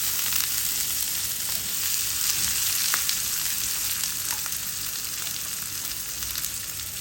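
Chopped onion sizzling steadily in a hot pan while it is stirred for a shrimp, broccoli and white beech mushroom stir-fry, a continuous close hiss with faint scraping and no talk.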